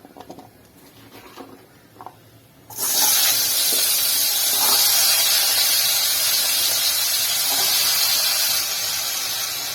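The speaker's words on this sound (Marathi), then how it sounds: "बटाटे 3-4 मिनिटं फ्राय करून घ्यायचे" Two large potatoes, cut into big pieces, drop into moderately hot oil in a pan for methi batata bhaji. After a few seconds of soft crackle, a sudden loud, sustained hissing sizzle bursts up and keeps going.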